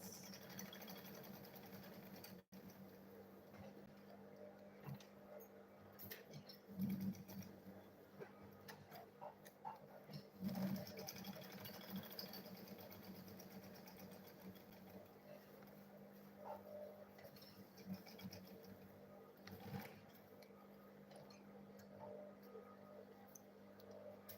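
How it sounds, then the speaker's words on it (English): A sewing machine stitches the fabric of a lunch bag, a faint steady mechanical whir with light ticking pulses and a few louder knocks. "So I'll go ahead and sew it together."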